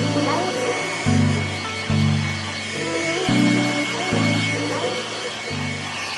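A hair dryer blows steadily to dry a pearl-shell paint finish made with Artisan paints, its hum rising and shifting in pitch as the airflow changes, with speech faintly over it.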